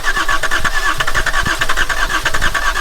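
Volvo 740 D24t turbo diesel, abandoned and fed fresh fuel after cracked injector lines, cranking and catching with a loud, steady rough clatter and rhythmic chugging throughout.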